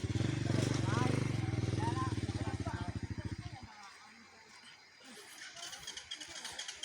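A motorcycle engine idles and revs loudly up close with a rapid throbbing rhythm, then cuts out, leaving faint rattling and background noise.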